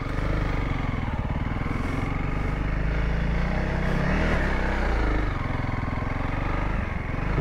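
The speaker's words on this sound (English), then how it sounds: "I'm gonna go up it in first, even throttle" A Honda CRF300L dirt bike climbs a hill in first gear at steady throttle, its engine loud and close with a constant rough drone throughout, alone without talk.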